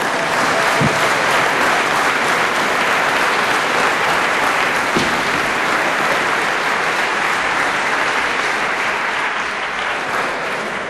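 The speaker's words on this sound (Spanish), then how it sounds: "un fuerte aplauso para ellos." A gala audience applauds the advertising and sales team in a sustained, dense burst of clapping that fills the hall, loud and even throughout with no talk over it.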